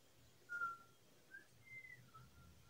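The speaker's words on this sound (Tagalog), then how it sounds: "May sumisipol guys." Faint, thin whistling in a few short tones with pauses between them, heard from some distance inside a small nipa hut against a low, steady background hum.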